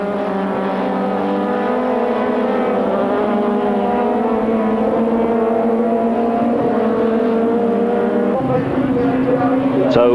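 Supertouring race cars circle the Paul Ricard circuit in 1995, a sustained loud engine drone with shifting pitch as cars run close together, and a fresh surge near the end; a commentator talks over it.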